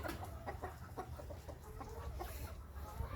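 Soft, repeated clucking from a rooster, a series of short low calls close by over steady background noise.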